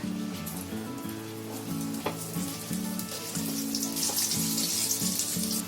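Eggplant slices frying in a little oil in a pan over low gas, a steady soft sizzle and bubbling running throughout at close range, with no talk.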